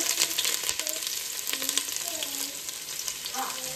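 Chopped onion sizzles in about five spoons of hot oil for chicken biryani, a steady close crackle with occasional stirring scrapes and no talk.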